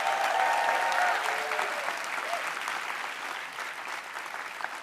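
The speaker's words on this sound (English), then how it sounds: "you deserve a round of applause" Applause from supporters at Mike Bloomberg's campaign-ending rally, a steady, full roar of clapping that stays strong throughout and fades only slightly toward the end, with faint crowd voices underneath.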